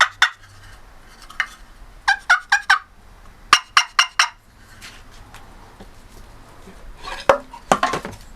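Handmade wooden turkey call of red cedar and black walnut, played to imitate a big turkey's gobble: sharp, close, rapid clucking yelps in quick clusters of three to five, separated by short pauses.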